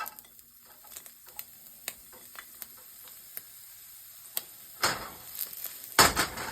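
Scallions sizzle as they are stir-fried in a pan for Singapore chow mei fun. There is a soft, steady sizzle with sharp utensil clicks and scrapes, and a few louder stirring bursts near the end.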